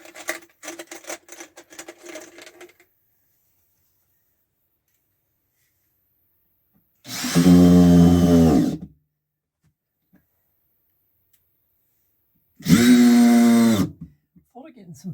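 A power driver sinks screws into timber boxing in an underground concrete bunker: two short, loud whirring bursts, close by and well apart, with a voice speaking briefly before them.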